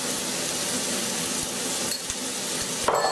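Chicken, prawns and one large crushed garlic clove sizzle steadily in a frying pan while being stirred, with a constant bright hiss and a few soft clunks of the utensil against the pan.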